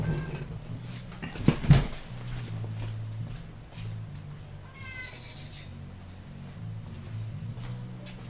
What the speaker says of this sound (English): I can hear meowing.